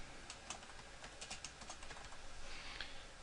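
Fingers type on a computer keyboard while entering a carrier into sales order software, a quiet, steady patter of key clicks with no voices.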